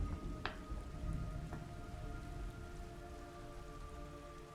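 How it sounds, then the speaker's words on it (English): Rain falling in the video game Metal Gear Solid Delta: Snake Eater, a soft continuous patter of drops on surfaces with a couple of faint clicks, quiet and steady throughout. "It's raining blood."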